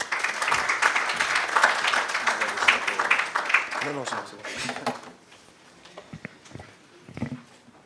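Audience applause at a financial conference, a dense patter of many hands filling the hall, fades out over several seconds into quieter room noise with a few stray claps and murmurs.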